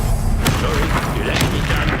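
Confringo and Depulso spell blasts in Hogwarts Legacy sound as loud booming impacts, two sharp cracking bursts over a dense, rumbling game soundscape.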